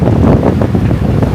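Wind buffets a boat out on a gulf, a loud continuous roar with rough gusting texture and the wash of water beneath, heard close to the microphone with no talk.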